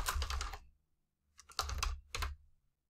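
Typing on a computer keyboard: close, quiet bursts of rapid key clicks, a long run of taps, a pause, then two shorter flurries.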